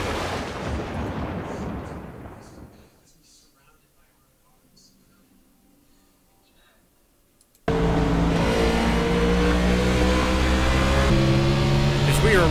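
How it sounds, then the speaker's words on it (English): An ARCA Menards Series race car engine at Bristol Motor Speedway roars loudly and fades to near silence, then bursts back in with a sustained, wavering high-revving drone as the throttle is feathered on the apron, heard from in-car. "He just touches that apron as you hear him feathering the throttle."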